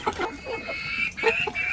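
Hens cluck and chatter close by in short, uneven bursts, with a higher-pitched squawk near the end.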